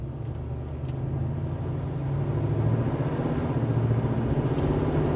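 A 1969 GMC C1500 pickup with a 402 cubic inch big block V8 runs at about quarter throttle, a steady low engine drone that swells slightly louder partway through, with no voices.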